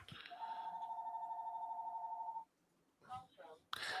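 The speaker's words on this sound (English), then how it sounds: "the phone's ringing" A telephone rings with one steady, sustained electronic tone lasting about two seconds, loud and close. It stops, and then voices speak.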